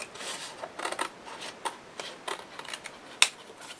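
Scissors snip through paper while trimming a page for an 8 x 8 mini album. Several soft, close, irregular cuts and rustles are followed by one sharper click.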